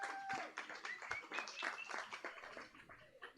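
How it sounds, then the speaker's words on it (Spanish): A small audience at a science café talk on cycling claps for a guest, very faint, scattered individual claps over a few seconds with a voice heard over them. "Un aplauso a Mauricio."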